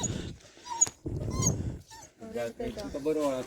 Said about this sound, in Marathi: आणि हा आमचा प्रेमळ क्यूट असा कुत्रा